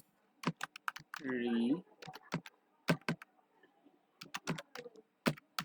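Rapid key clicks on a computer keyboard while a file name is typed, arriving in short irregular bursts with pauses, close and crisp; a brief hum or voice-like tone sounds in the middle.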